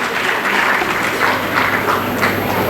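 Continuous clapping from a large audience, even and dense, with no pauses.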